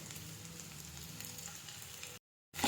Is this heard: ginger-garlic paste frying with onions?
yes